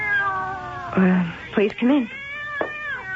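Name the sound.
cats meowing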